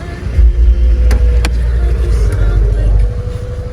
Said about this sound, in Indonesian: buka dan start mesinnya. Ini mesinnya 1 AZ ya.